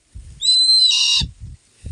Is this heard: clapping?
no